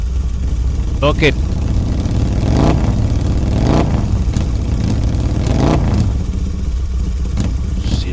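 Car engine revving and idling on a short drive in a children's festival skit, rising and falling in repeated surges, close and loud, with brief speech over it.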